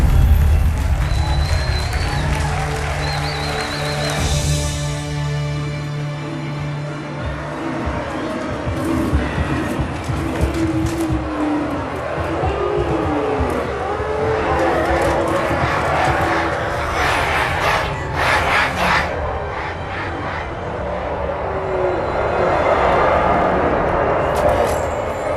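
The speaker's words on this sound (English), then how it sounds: "Quite a crowd." A large crowd in the Halo 2 cinematic cheers and applauds continuously, a roaring wash of voices and clapping with rumbling low tones and scattered shouts rising and falling throughout.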